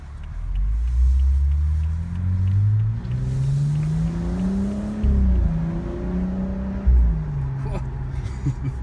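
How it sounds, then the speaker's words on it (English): A BMW M235i xDrive exhaust droning and rumbling while driving, its pitch climbing and dropping through the revs with brief surges. Voices talk over the engine. "But that exhaust note is pure exhaust note."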